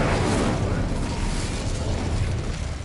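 Incendio fire spell cast in the video game Hogwarts Legacy: a loud, sustained whooshing blast of flame with a rumbling low end, holding steady for about three seconds with no talking.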